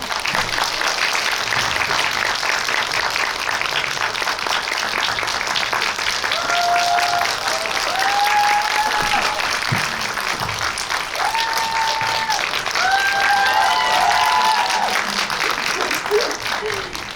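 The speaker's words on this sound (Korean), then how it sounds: "큰 박수 부탁드립니다." A packed cinema audience at a film screening with a Q&A claps as the actors and director are welcomed at Megabox Seongsu. The dense, steady applause runs unbroken for about seventeen seconds, with a few voices and cheers mixed in.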